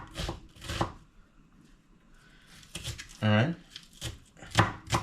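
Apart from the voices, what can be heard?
chopping onions with a knife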